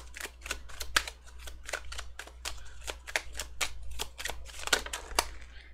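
Tarot cards are being shuffled by hand, a steady series of crisp, close riffling clicks repeating roughly twice per second over a low hum, with no talking.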